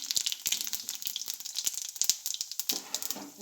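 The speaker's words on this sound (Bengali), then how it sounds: "জিরে আর চিনি প্রথমে এটাকে ফোড়ন দেবো" Cumin seeds and a little sugar tempering in hot oil for a potato and tomato curry, giving a close, crackling sizzle with frequent sharp pops scattered through the sizzle.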